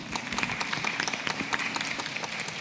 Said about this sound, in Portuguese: quero pedir uma salva de palmas para esse pessoal que está aqui